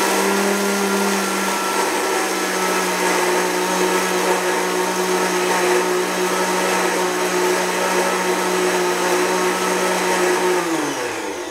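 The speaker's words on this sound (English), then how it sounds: "So I'm going to grind this. It's going to get a little loud for a moment." A blender runs at speed 4 grinding almonds into flour, a loud, steady motor whir with a constant pitch for about eleven seconds before it winds down at the end. Nobody speaks over it.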